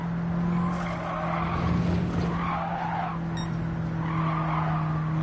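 A front-wheel-drive race car's rear end slides out in a racing video game, sustained tire skid and squeal over a steady engine drone, loud and close for several seconds with no talking.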